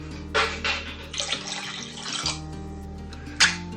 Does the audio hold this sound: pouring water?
yes